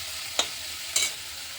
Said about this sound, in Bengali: মাছগুলোতে ভাজলে খুব জল বেরোচ্ছে